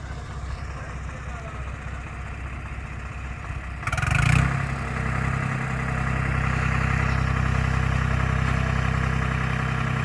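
A tractor engine runs in a wet, foggy sugarcane field, giving a steady low idling drone with a brief louder thump midway before settling back to an even rumble.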